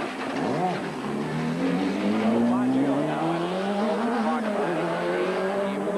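A race car at the 1990 IMSA Watkins Glen New York 500 pulls away from a pit stop, its engine loud and close as it revs up and climbs through the gears, with a brief tire squeal. A commentator talks over it.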